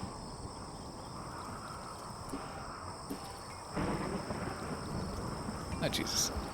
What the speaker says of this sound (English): A dry thunderstorm.